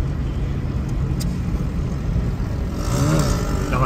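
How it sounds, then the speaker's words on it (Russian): A moped engine hums steadily at close range, then rises in pitch as it accelerates away near the end, with no speech. "Это какой-то мопед обычный, даже не мотоцикл."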